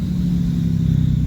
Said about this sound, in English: There's the exhaust brake.